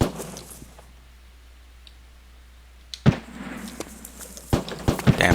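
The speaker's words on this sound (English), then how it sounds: "damn, the firing's picked back up again" Bursts of gunfire in a survival shooter game: quiet for a few seconds, then sharp shots crack out in clusters from about three seconds on, close and loud with a ragged rhythm, and no talk over them.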